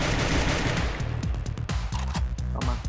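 Rapid in-game gunfire from SCAR, MP5 and M60 weapons in Free Fire, loud and dense, with a continuous burst that breaks into a steady rhythm of distinct shots toward the end.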